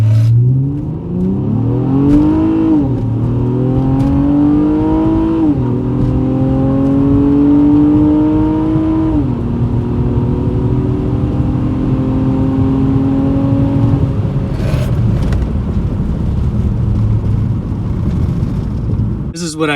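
A Honda Accord accelerates hard in drive with eco mode off during a 0-60 and quarter-mile run, its engine climbing in pitch through several upshifts. The steady road and wind roar stays loud throughout, and a voice speaks over it.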